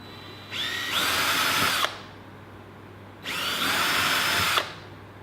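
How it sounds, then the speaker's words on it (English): Power drill boring holes in wood while building a simple coat rack, two separate bursts of whining motor, each rising as the bit bites in and cutting off sharply, loud and close with no talk. "Okay, and away we go. Hold the drill straight."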